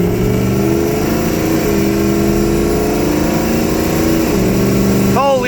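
Pickup truck engine pulling under acceleration while driving, a steady close mid-pitched drone whose tone rises through gear changes, climbing again after each shift.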